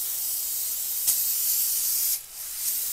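Cleaner sprayed onto a vacuum pump seal on a Land Rover 300Tdi engine, a steady close hiss of aerosol spray running throughout with a brief sharper burst partway and a short pause near the end.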